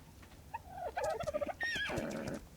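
A horse in a video game neighs in a shrill, wavering whinny that rises and then trails off, with a few soft thuds around it.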